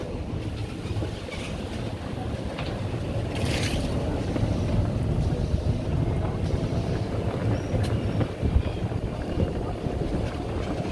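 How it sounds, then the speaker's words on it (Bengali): A resort's water launch boat at Gazipur runs with a steady low engine rumble, heard close and continuous throughout, mixed with wind buffeting against the microphone and no talking. "এটা আমাদের ওয়াটার লঞ্চ"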